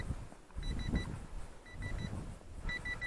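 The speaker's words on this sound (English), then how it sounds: "I'm not sure why my transmitter is beeping." Short electronic beeps from a radio-control plane transmitter in small groups of three, thin and high, repeating over rushing outdoor wind noise.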